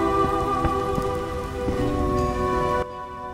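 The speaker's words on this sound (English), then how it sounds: "Out in the rain again" Steady rain patters continuously over a layered hum of tones in The Witcher video game, loud and close, cutting off abruptly near the end.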